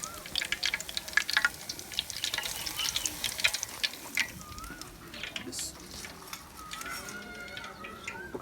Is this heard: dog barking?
no